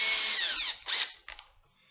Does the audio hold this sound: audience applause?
no